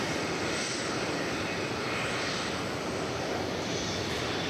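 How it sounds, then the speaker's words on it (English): An American Eagle aircraft arrives at the airport, giving a steady, moderate broadband engine roar at a fairly even level throughout, with no talk. "An American Eagle aircraft, as you can see."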